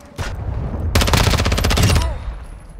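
MP7 gunfire in Modern Warfare 2, a rapid, loud burst of automatic shots lasting about a second, preceded by a brief short burst.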